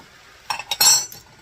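A can of diced tomatoes is tipped into a pot of wilted cabbage for cabbage soup, giving a few short metallic clinks and a brief pouring slosh up close, with no talk.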